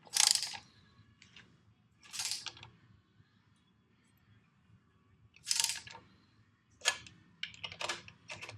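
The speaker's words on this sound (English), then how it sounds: "I'll torque the top ones, then you can torque the bottom ones" Torque wrench tightening bolts on a 1976 Pontiac Firebird engine set to 30 pounds, giving several short sharp ratcheting clicks in separate bursts, close by over a quiet background.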